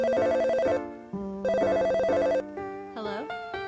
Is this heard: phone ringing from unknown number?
yes